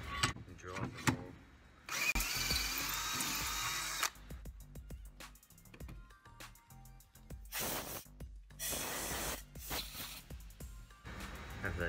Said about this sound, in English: Drill off the hole.